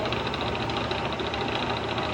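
A steady mechanical whir of a drill press peck drilling into metal, continuous and close, with a rhythmic grinding pulse and no speech.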